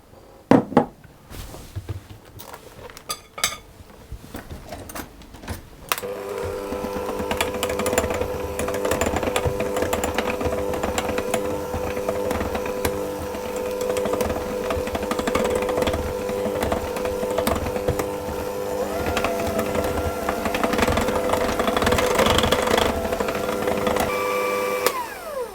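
Lemon cake batter is beaten in a bowl: a few clunks and taps, then a steady, loud electric mixer whirr that runs continuously for about twenty seconds with no talking.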